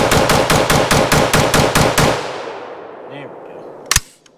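T91 piston AR rifle at an outdoor shooting range firing a rapid string of about ten loud, close shots that echo away, followed by a metallic clank as a voice speaks briefly.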